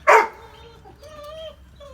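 A dog lets out one sharp, loud bark nearby, then a few softer whining yips trail off over the next second and a half.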